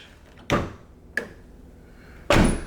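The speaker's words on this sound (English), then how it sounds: "We can open the door!" Nissan 350Z door with a newly fitted handle being worked, giving a sharp mechanical clunk, a smaller latch click, then another solid thud, all close and with no talk.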